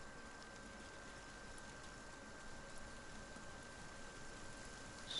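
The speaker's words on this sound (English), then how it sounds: "Starting to rain, is it?" Steady, faint rain hiss in the video game Uncharted 4 forms a soft, even wash of noise with a low hum, alone without talk.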